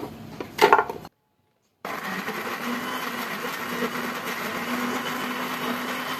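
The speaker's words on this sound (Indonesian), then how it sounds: "di sini saya akan haluskan cabai merah, cabai keriting, bawang merah, dan kemiri" A kitchen blender grinds red chilies, curly chilies, shallots and candlenuts, a steady loud whirring drone running for most of the clip after a brief clatter and a short pause.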